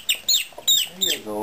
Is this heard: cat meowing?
no